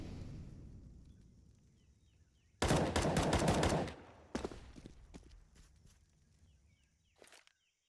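Rifle fire in a professional Counter-Strike match on the Ancient map: a loud sustained burst of rapid shots, then scattered single shots and footsteps, fading to quiet.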